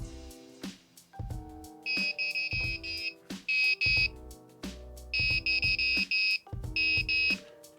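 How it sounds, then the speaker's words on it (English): An ultrasonic tripwire's buzzer sounds in a series of sharp, high electronic beeps, in short bursts repeating in an uneven pattern over a lower tonal hum and clicks, close to the microphone. "that's the buzzer noise"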